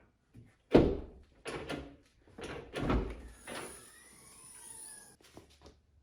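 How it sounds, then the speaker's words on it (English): Rear hatch of a Mercury Mariner SUV being opened in a garage: a solid thunk and latch clicks, then further bumps and a soft rising whine as the liftgate swings up, near and moderately loud with no talking. "So let's go ahead and open that hatch and start working on it."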